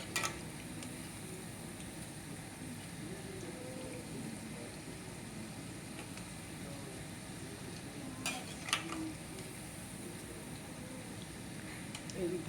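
Onion pakoda frying in oil, a steady, moderately quiet sizzle that runs without a break, with a few sharp pops and clicks near the end.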